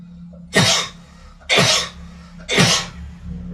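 Three loud, close coughs come at even one-second intervals, each a sharp burst over a low steady hum, during a humorous Minang religious talk.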